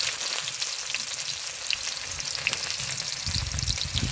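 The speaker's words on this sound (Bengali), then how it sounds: "ভালো করে পেঁয়াজটা হালকা করে আমি ভেজে নেব" Chopped onion, cumin seeds, cardamom and clove fry in hot oil in a pan, producing a dense, continuous crackling sizzle with faint stirring scrapes and no talk.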